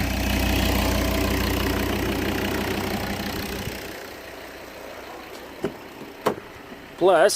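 A Volvo V70 D3 2.0 diesel engine with a replaced turbo and EGR idles with a steady, rough rumble that fades lower partway through, followed by a few sharp clicks and a brief rising rev at the end.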